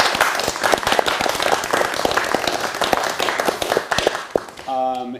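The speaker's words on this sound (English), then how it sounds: "can we please put a quick round of applause to David and Paul for coming out tonight" An audience at an evening art and astronomy talk breaks into sustained applause, many hands clapping steadily and fairly loudly, with a few voices audible in the mix.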